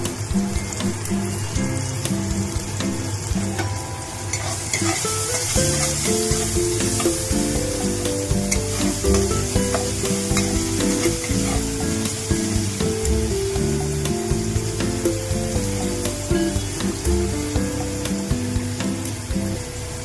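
Chopped carrots stir-fry in a pan for egg chowmein, giving a loud, continuous sizzle broken by scraping and clattering stirring strokes, with no talking.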